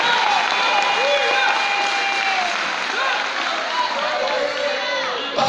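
A church congregation claps during a Thursday teaching service, making steady, dense applause with voices calling out and chattering over it the whole time.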